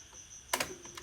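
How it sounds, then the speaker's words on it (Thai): A key turning in a padlock outside a house at night, giving a short cluster of sharp metallic clicks and rattles, then a couple of softer taps, close and fairly quiet. "เปิดกุญแจแล้วครับ"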